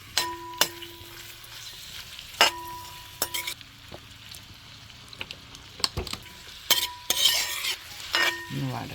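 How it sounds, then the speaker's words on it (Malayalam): Shallots sautéing in a pan for chicken curry: a soft, steady sizzle under repeated sharp clinks and scrapes of a metal spoon against the pan, close by with no talking. "ഇതൊന്ന് വഴറ്റട്ടെ."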